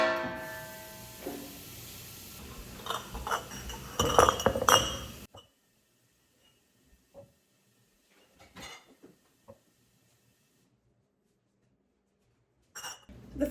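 Glass canning jars clink against each other as they are handled in a home kitchen before being packed with bruschetta, a busy cluster of close, sharp clinks followed by a few sparse, isolated taps.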